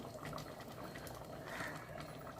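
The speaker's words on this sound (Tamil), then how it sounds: "நல்லா கொதி வந்துருச்சுங்க" A pot of chana dal vegetable curry bubbles at a full boil, a faint, continuous gurgling simmer with no voices over it.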